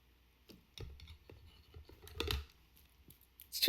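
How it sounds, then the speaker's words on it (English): Scissors snip through long hair in several quiet, scattered close cuts with soft rustling between them, no talk. "I'm going to cut my hair."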